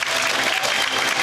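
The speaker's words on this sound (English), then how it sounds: "The big round of applause for Peter." Steady, dense applause from an audience fills the whole moment, loud and continuous.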